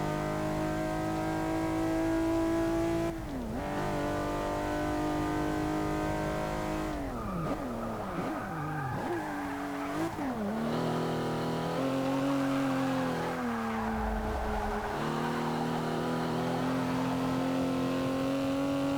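A race car in Forza Motorsport 6 revs and accelerates loudly, its engine pitch climbing and dropping repeatedly through gear changes, with brief tire squeal, and no talk.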